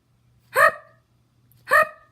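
Two distinct hiccups from someone, evenly spaced about a second apart, close and fairly loud over a faint low hum, with no talk.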